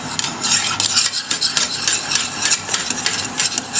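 A spoon stirs black Venere risotto with cream and melting parmesan, giving a loud, rhythmic series of scraping, sticky swishes against the pot, close up with no talking.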